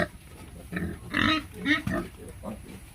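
Pigs in a backyard piggery grunt and snort close by in a quick, uneven series of rough calls with no pauses.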